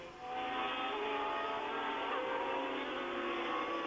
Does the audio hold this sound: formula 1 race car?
yes